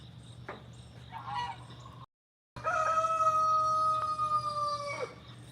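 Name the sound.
backyard roosters crowing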